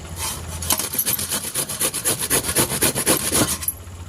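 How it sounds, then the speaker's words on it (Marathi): A pumpkin is grated by hand onto a plate, producing close, rhythmic rasping strokes, about a dozen quick scrapes in a steady back-and-forth pattern, alone without talk. "अशा पद्धतीने किसून घेऊया"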